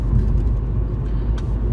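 Car driving with engine and road noise, a loud, constant low rumble of tyres and motor from inside the vehicle, no speech.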